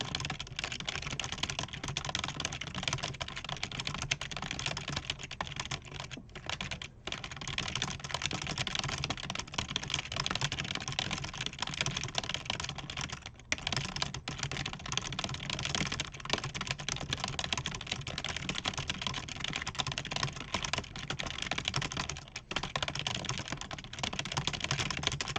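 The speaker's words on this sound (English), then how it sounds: "I think I was typing faster than I usually do" Rapid typing on a computer keyboard, dense continuous key clatter at a fast pace for the whole stretch, with only a couple of brief pauses, close and alone.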